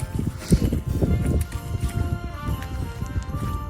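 Horse hooves clip-clopping close by in a steady, rhythmic run of thuds, loud and continuous.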